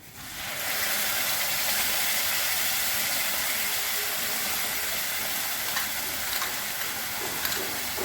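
Pointed gourd paste with turmeric dropped into a hot pan: a sudden rush of hissing sizzle that swells and holds as a steady, loud steaming fry, with a few faint clicks near the end.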